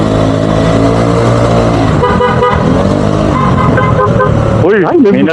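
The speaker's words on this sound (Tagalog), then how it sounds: "May busina pala itong gano'n." Horn of a Vespa scooter honking loudly and repeatedly in traffic, heard close over engine and road noise, with a warbling tone near the end and people talking.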